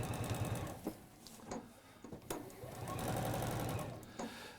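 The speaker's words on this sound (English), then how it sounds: "This just top stitching these seams just strengthens it" A sewing machine runs steadily while top-stitching shirt seams, a close, continuous rapid mechanical whirr with brief pauses and ticks between short runs of stitching.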